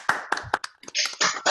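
Applause from an online audience on unmuted microphones comes through as a short, uneven burst of claps and taps from several people, close and a little ragged, with no voices.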